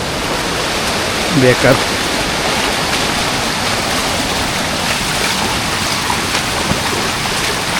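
A waterfall in the Konkan countryside roars as a constant broad rush of water, loud and steady, with a short spoken word heard briefly over it.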